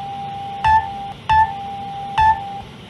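An emergency alert system alarm tone from an alert broadcast: three short, evenly spaced beeps over a faint steady background hum, fairly loud and clear with no talk.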